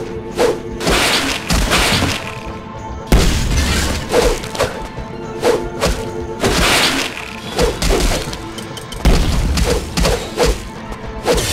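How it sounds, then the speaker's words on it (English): Fuel cells exploding on impact in the Fantastic 4 video game, a loud dense run of heavy thuds, crashes and shattering bursts that repeat in irregular clusters and keep going throughout. "Fuel cells explode on impact."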